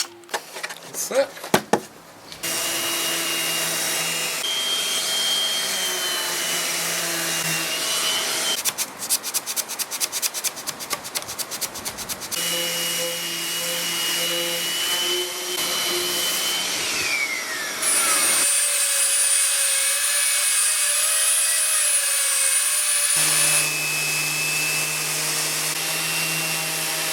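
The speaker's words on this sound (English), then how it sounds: "I'm going to start sanding now." A power sander whines against a solid oak side table, its motor tone starting, stopping and shifting pitch as it works the deep-grained wood, with a person talking between passes.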